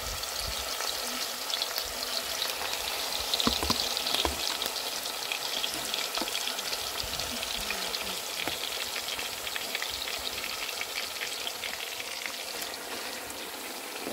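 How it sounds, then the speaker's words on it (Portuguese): Pork frying in hot fat for a farm lunch, a dense continuous sizzle and crackle that holds steady and close throughout with no voices. "E agora a gente vai tá fritando nossa carne de porco."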